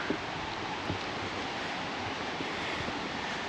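Distant waterfall at Little Bradley Falls in North Carolina, a steady broadband roar of rushing water with no clear breaks, heard alone.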